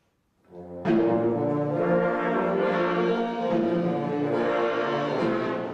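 A group of wind instruments enters with a sudden sustained chord, holding a rich, slightly wavering tone that continues loudly to the end.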